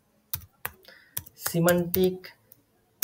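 Several sharp, dry clicks of typing on a computer keyboard, spaced irregularly, with a person speaking over the middle of the keystrokes.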